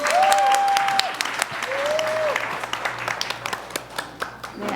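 A church audience gives steady, sustained applause of many hands clapping, filling the room at moderate loudness, with a brief pitched tone sounding faintly over the start.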